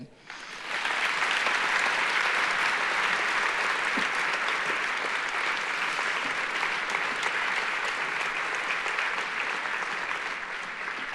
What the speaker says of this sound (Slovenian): Aha, aplavz, tako.